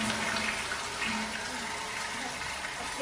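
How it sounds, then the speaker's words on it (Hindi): A toilet flushes in a flat's bathroom in Kolkata, a steady rushing wash of water filling the whole span at even loudness. "दोबारा फ्लश हुआ।"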